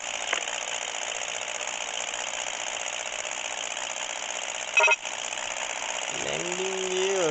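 Continuous droning airplane engine roar at steady loudness from a plane taking off an aircraft carrier in the 3D Flight Pilot video game, with a brief burst near the end and a rising tone at the close.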